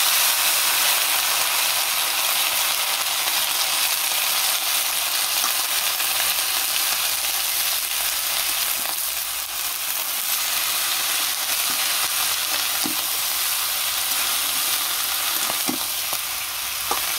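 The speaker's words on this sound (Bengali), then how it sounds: "দিয়ে দিলাম তেল, জাল টনি করছে, এখন দিয়ে দিব সবজিগুলো।" Vegetables frying in hot oil in a pan, a steady loud sizzle that runs unbroken and close throughout, with faint scraping and clinks of stirring now and then.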